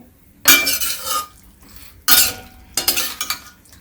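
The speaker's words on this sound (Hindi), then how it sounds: "और इसको हम ढक दे रहे हैं।" Metal clanks and clatters as a lid goes onto a cooking pan of pumpkin curry, three separate bursts of clinking with quiet pauses between them.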